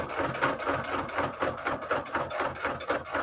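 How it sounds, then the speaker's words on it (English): A sewing machine stitches through the signatures of a paper junk journal in a fast, steady mechanical whir with rapid rhythmic needle pulses, running alone at moderate volume close by. "And my sewing machine is running along pretty nicely."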